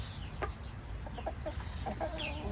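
Chickens cluck softly in short scattered calls over a low steady background hum, fairly close and quiet.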